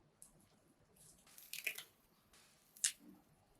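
Young, fresh watercress stems snapped by hand into shorter strands, a few quiet crisp snaps and rustles spaced apart in a hushed kitchen.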